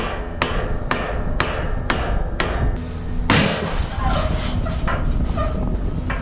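Sharp, evenly spaced metallic strikes of a rock used as a hammer on large farm equipment, about six loud hits in steady rhythm, followed by clanking and rattling of the machine as a part releases.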